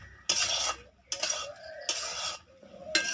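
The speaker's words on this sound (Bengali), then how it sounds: "এবার ডালটা সমস্ত মশলার সঙ্গে ভালো করে মাখিয়ে নেব।" A spoon scrapes and stirs boiled dal with spices in a pan, in four separate strokes with short pauses, close and clear with no talking.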